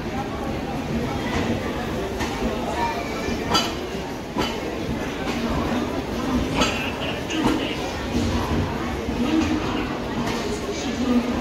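The Darbhanga–Amritsar Jan Nayak Express rolls into a station platform in India, a continuous rumble with rhythmic wheel clicks and clanks close by, while someone talks over it.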